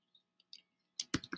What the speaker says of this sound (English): And then I'm going to click on search the store.